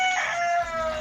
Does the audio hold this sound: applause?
no